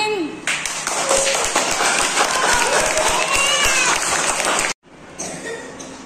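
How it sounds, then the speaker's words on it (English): An audience at an Indian senior secondary school's Labour Day event claps loudly and steadily, with crowd murmur and stray voices mixed in. The applause cuts off abruptly, then briefly resumes more softly. "Clapping."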